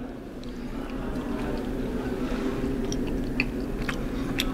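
Biting and chewing a purple pickled egg, soft wet mastication sounds close to the mic over a steady background hum, with a few small clicks, no talking.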